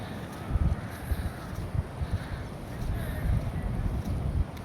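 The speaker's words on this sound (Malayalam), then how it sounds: "കടൽ ശാന്തമല്ല, കടൽ ഇളകിയിട്ടാണ് നിൽക്കുന്നത്." Rough sea surf at Thooval Theeram beach near Tanur, Malappuram, churning as a steady broadband roar mixed with heavy wind buffeting on the microphone, with surges swelling and easing throughout.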